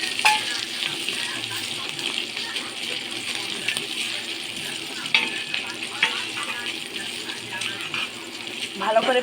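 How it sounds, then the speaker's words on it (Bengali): Ginger paste and turmeric powder frying in a pan for chili chicken, a steady close hiss and crackle running throughout with occasional stirring clinks. "ভালো করে ভেজে নিচ্ছি।"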